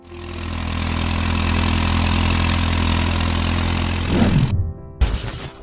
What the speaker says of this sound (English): With its sleek design, compact engine, and distinctive pop-pop sound, the Pony is a testament to the golden age of family farming.